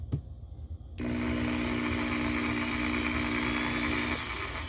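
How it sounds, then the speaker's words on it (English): A large corded power drill is switched on and runs at a loud, steady whine for several seconds, then its pitch shifts slightly near the end. A short click comes before it starts. "let's go ahead and plug it in and give it a run. Since this drill is the biggest, it is also, as you might assume, the loudest"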